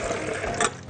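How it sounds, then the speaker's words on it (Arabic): Warm water pours into a blender jar, a short rushing, splashing fill heard close and alone. "انا بقى احط الميه الاول علشان لما احط كل الاضافات بعد كده الاضافات بتاعتي تعرف تتحرك كويس في الخلاط"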